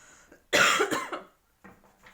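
One harsh, close cough bursts out abruptly, followed by a short pause and a faint breathy sound, in a quiet indoor setting.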